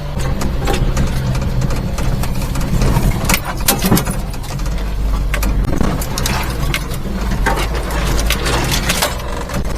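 A supercharged three-cylinder mini-truck engine runs steadily and loudly up close, with a rough mid-low drone and uneven throttle surges through the clip, plus rattling and clatter from the engine bay.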